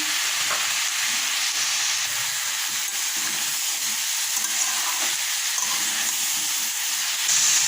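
Pumpkin pieces fry in a pan with a loud, constant hiss and sizzle, punctuated by occasional soft stirring scrapes, close up and without any speech.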